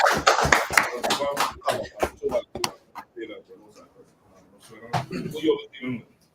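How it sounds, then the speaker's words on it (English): Several people in a church gathering clap in a short burst of sharp, uneven hand claps, close and loud, before the clapping dies away and someone speaks. "Clap, everyone."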